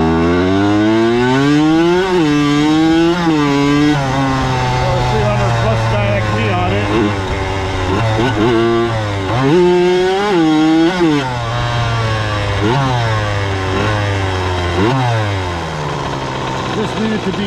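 A 1992 Kawasaki KX80 motocross bike engine, congested and reluctant to rev, running loudly up close with a buzzing two-stroke idle that repeatedly rises and falls in uneven revving sweeps.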